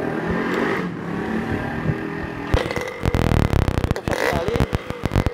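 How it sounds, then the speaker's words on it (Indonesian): A 1989 Yamaha RX King Cobra two-stroke motorcycle idling roughly, then revved hard in a series of sharp, loud bursts close by, with no talk over it. "Oke, kita coba nyalain motor ya."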